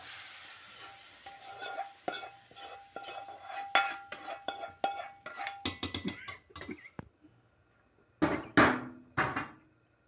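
A spoon scrapes and clinks against a cooking pot while dal is stirred and mixed, in sharp, irregular strokes that pause and then return in a brief final flurry.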